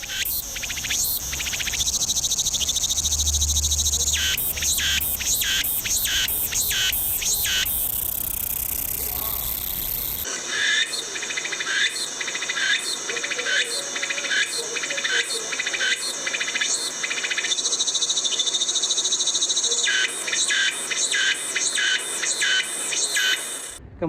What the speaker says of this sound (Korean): 가장 리드미컬하게 우는 애매미 소리